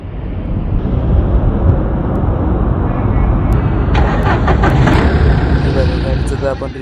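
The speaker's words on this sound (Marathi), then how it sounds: "बटन दाबल्याच्या नंतर वन प्रेसमध्ये गाडी चालू होत आहे" A car engine fires up on a single press of a newly fitted push-button starter after its starter motor and solenoid switch were replaced, then runs with a steady loud roar while a person talks over it.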